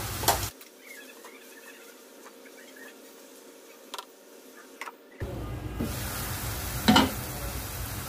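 Shrimp and mixed fish dropped into hot oil in a pan, a brief burst of sizzling followed by quieter frying, then a louder crackle as more pieces go in.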